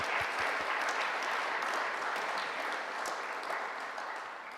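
An audience applauding a discussion panel at a talk, giving a steady wash of clapping that slowly fades toward the end.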